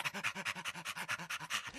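A person playfully imitates a dog panting, with quick rhythmic in-and-out breaths, about a dozen close, evenly paced huffs in under two seconds.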